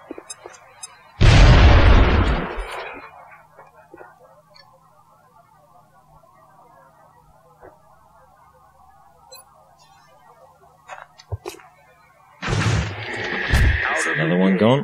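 A grenade explosion in the video game X-COM Enemy Unknown: one loud, close boom with a rumbling tail, followed near the end by a second heavy burst, with quiet ticking interface sounds in between.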